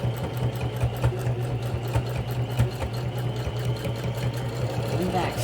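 Sewing machine back stitching the corner of a toiletry pouch, a fast even mechanical chatter with a steady low hum running underneath, close and moderately quiet throughout.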